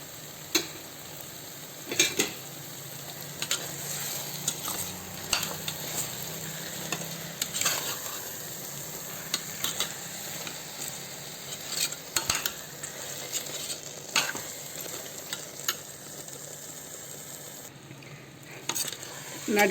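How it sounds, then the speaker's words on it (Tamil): Spice paste is stirred into hot oil in a pan for an eggplant gravy, giving a continuous low sizzle broken by repeated scraping knocks of a spoon against the pan over about twenty seconds. "இப்போ இந்த பேஸ்ட்டு கூட இதில் கலந்துடணும்."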